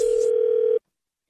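A telephone line sounds a single steady electronic tone for under a second before cutting off abruptly into silence, as a prank call starts on a radio show.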